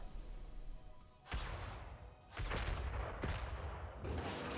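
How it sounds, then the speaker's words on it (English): Coil gun shots in the Worbital space strategy game, a handful of sharp blasts in irregular succession with a rumbling tail after each, fairly loud against a quieter background hum; no talk. "Send a couple more coil gun shots out."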